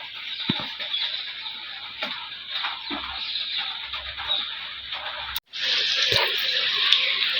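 Running water splashes steadily while pointed gourds (potol) are washed, with a brief break before the flow comes back stronger. It is close and moderately loud, with light clatter underneath and no speech.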